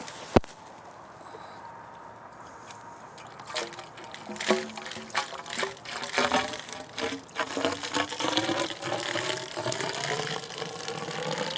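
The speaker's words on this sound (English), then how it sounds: "We'll pour the water into the tube." Water is poured into a Secchi tube, a narrow measuring tube for testing water quality. A sharp click comes first, then a trickle that builds into a steady splashing, gurgling fill lasting several seconds.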